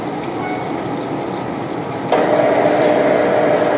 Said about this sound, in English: You should hear the noise of the condensate pump kicking in.